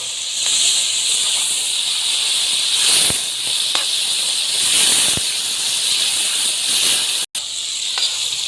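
Chicken for achari gosht fries loudly in a pot, a close, steady hiss and sizzle with occasional sharp crackles and pops, briefly cutting out near the end.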